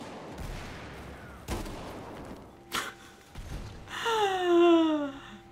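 Gunfire from a suppressed ACR rifle in Battlefield 4 bursts in a few sharp shots, followed by a rising game tone and ringing effects.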